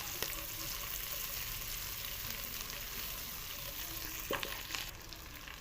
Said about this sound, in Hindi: अब सब्जियों को हमने हल्का सा सोते कर लेना है, ये देखिए फ्राई बस थोड़ा सा करना है।